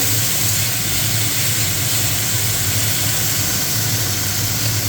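Okra frying lightly in oil in a pan makes a loud, steady hiss and sizzle that runs unbroken throughout with no talking.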